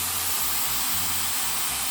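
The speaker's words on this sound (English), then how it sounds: "hear that sizzle" Spiced water poured into a hot pan for a Caribbean coconut turnover filling sizzles and hisses steadily, loud and close, with a faint low rumble beneath and no talking.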